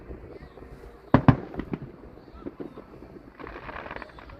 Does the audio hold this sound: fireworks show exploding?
yes